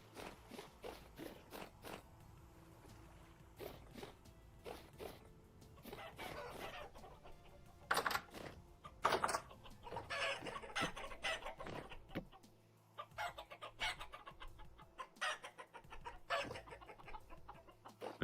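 Chickens cluck busily close by in the video game Vintage Story, with repeated short clucks, a crow, and footsteps over the game's ambient sound.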